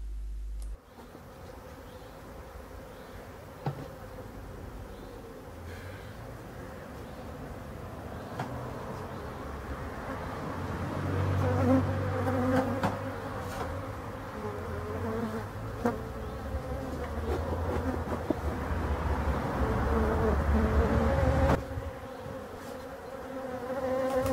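Honey bees swarm around an opened hive during honey harvest as the supers come off, a dense continuous buzzing that swells louder midway and holds steady, with no talking.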